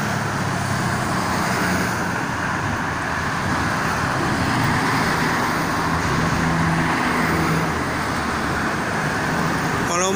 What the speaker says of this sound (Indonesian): kendaraan yang mau mengarah ke Jakarta cukup lumayan ramai untuk malam ini